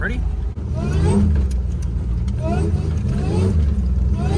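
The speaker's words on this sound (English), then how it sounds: "I will show you what happens when you just give it a little bit of gas" Toyota Hilux pickup with a swapped L67 supercharged V6 engine revving and accelerating, a loud steady mid-range drone that rises and falls, with someone speaking over it.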